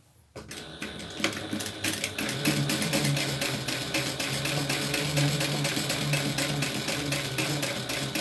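A sewing machine stitches a folded edge at a long stitch length, starting after a brief silence and then running in a fast, steady mechanical rattle, close and continuous.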